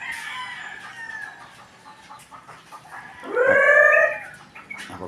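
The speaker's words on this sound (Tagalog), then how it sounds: "May doon po bumaba ang manok." A rooster on a Philippine farm crows once, loud and close, after a stretch of soft clucking and scattered farmyard noise.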